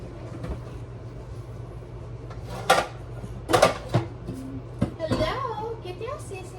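Pots and pans being handled in a home kitchen, several sharp metallic clanks and knocks in the second half over background room noise and a low hum, with speech nearby.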